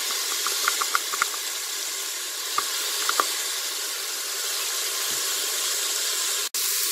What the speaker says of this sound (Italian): Aggiungiamo il pomodoro.